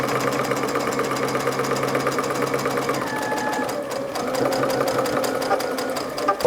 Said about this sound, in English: heading to the sewing machine to sew